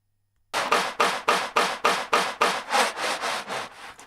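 Reversed audio sample played back in an audio editor, coming out as a rhythmic, sawing-like rasp: about a dozen even back-and-forth strokes that swell and cut off, loud and close with no talking.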